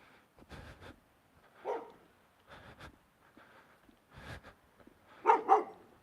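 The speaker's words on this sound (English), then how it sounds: "oh, I don't like that dog." A dog barks in a few short, sharp bursts spread across several seconds, moderately close, with the loudest pair of barks near the end and quiet gaps between them.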